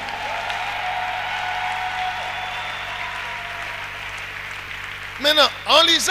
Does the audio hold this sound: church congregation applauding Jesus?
yes